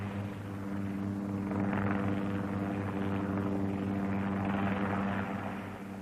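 A helicopter flies over the arid island of Syra near Santorini, its engine and rotor making a loud, steady droning hum with a strong low tone that swells slightly and holds throughout.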